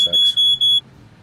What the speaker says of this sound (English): Sorry, guys, I got a fire alarm going off here.